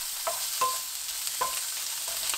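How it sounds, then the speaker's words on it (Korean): Sausage pieces stir-fried with garlic in oil in a pan over medium heat, giving a steady low sizzle with a few sharp scraping stirs of the spatula, with no voices. "소세지를 넣고 1분 30초 볶습니다."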